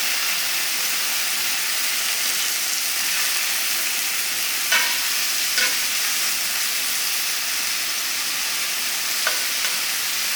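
Mushrooms frying in butter in a pan over a heat turned down to just above a simmer give off a steady, even sizzle with a few faint clicks and pops. No one speaks.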